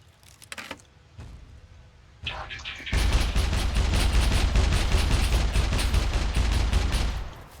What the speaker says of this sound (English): it's fun to shoot the mechs with flares